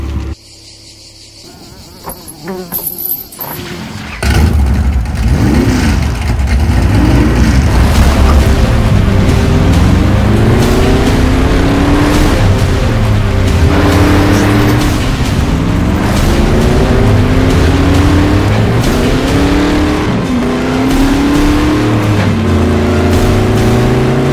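Loud, droning engine of a home-built hot rod driving in the desert, revving up and down in repeated swells as it runs. A brief quieter stretch comes first, then the engine stays close and continuous with no voices.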